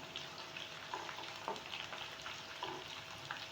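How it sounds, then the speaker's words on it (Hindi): Chopped ginger, green chilli and whole dried red chillies frying in hot oil in a pan for a dal mash tadka, a steady close sizzle with occasional stirring clinks, no talking. "अब ये अदरक, हरी मिर्च और 3 अदद मैंने साबुत मिर्च ली है, ये इसमें डाल देंगे।"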